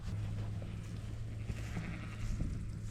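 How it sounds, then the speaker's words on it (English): A large mob of ewes on a farm bleating, a dense low chorus of overlapping calls at moderate distance under steady background rumble, no talking. "we'll go and show you the ewes, main ewe mob"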